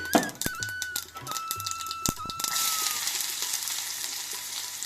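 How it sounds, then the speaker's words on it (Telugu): Cumin and mustard seeds followed by onions hitting hot oil for a samosa potato filling, several sharp pops and clicks with a faint whine, then a broad steady sizzle taking over; no one speaks. "కొద్దిగా జీలకర్ర, కొద్దిగా ఆవాలు వేసుకున్న వేగాక ఉల్లిపాయలు వేసుకుందామండి"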